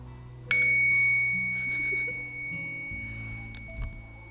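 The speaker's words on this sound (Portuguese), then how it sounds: "É um cantinho muito gostoso para oração. Tem até sino," A small bell in a home prayer corner gets one bright strike near the start, then rings on with a long, fading metallic shimmer in an otherwise quiet room.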